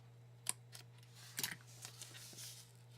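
Scissors trim the edge of a paper card with a few short, faint snips close by, including a quick cluster of cuts in the middle over a low steady hum.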